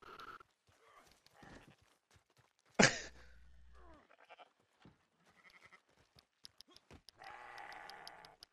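Sheep bleating in the video game Red Dead Redemption 2: a short sharp cry, then a strained, wavering bleat near the end, with scattered quieter noises between and no talking.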